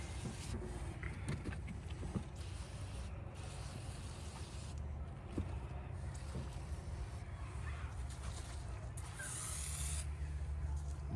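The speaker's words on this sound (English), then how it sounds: "we're gonna hit it again with the oven off cleaner" Oven cleaner sprayed onto a wooden No.1 Mk.3 drill purpose rifle stock to strip cosmoline: a steady, close hissing spray running continuously with a few brief handling knocks.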